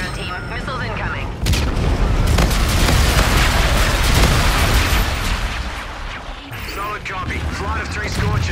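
Missile bombardment hitting the ground in Call of Duty: Infinite Warfare, a loud sustained roll of heavy booming explosions that swells and fades, with voices speaking over it.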